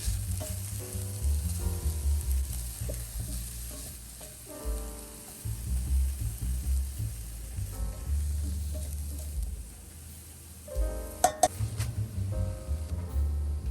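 Vegetables and spices fry and get tossed in a pan for a vegan breakfast hash, giving a steady close sizzle with stirring scrapes and a brief sharp clatter near the end. Nobody speaks.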